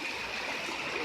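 A small stream in a greenway runs over rocks, giving a soft, continuous rushing trickle heard up close and alone.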